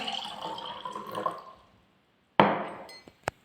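Water pours into a glass for a moment, then a second short pour splashes in, followed by a couple of faint clinks and drips.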